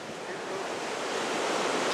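Ocean surf near a small temple in Bali, heard as a steady close wash of breaking waves with broad hiss and some wind rumble, continuous and fairly loud, with no voices.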